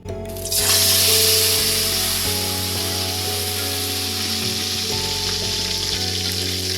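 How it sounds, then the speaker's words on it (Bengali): Steady, loud sizzling and crackling of fish frying in hot oil on a low gas flame, with a constant low hum running underneath. "মাছটি তেলের মধ্যে ছেড়ে ভালো করে উল্টে পাল্টে ভেজে নেবেন"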